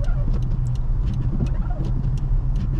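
A car moves along a snowy road, its engine rumbling low and steady throughout at moderate distance, with brief faint higher noises scattered above it.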